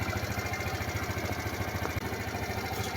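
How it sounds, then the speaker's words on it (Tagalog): Kawasaki Z125 motorcycle with a fault that makes the engine stall when the handlebars are turned, idling close by with a fast, even pulsing putter that holds steady throughout. "Pero nagbabago yung tunog ng makina."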